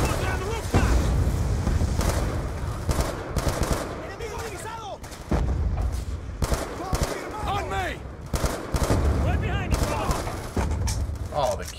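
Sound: machine gun fire from a window, Call of Duty Black Ops 2 video game

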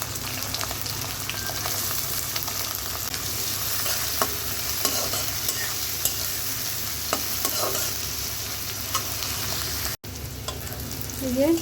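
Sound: chilli, onion and garlic frying in oil in a wok

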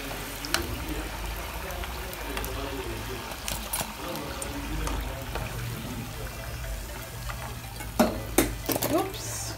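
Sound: potatoes (viazi karai) frying in oil

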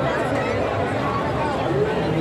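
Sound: crowd chatter at the Cooch Behar Rash Mela fair

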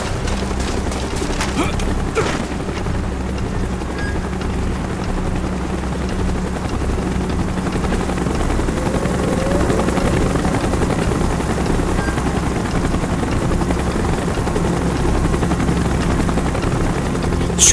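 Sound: helicopter in the video game Call of Duty Black Ops

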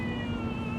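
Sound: baby crying

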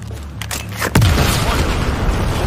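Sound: explosion in the video game Battlefield 4

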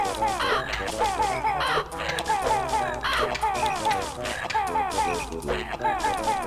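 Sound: bird cawing in video game Banjo-Kazooie

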